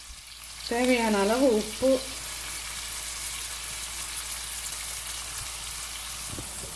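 Curry leaves sauté in oil in a pan for Chettinad chicken, a steady crackling sizzle running throughout while someone speaks briefly near the start.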